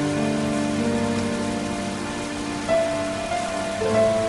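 Rain falls in an animated cartoon scene on a street corner, a soft, steady patter on surfaces with sustained musical tones running underneath.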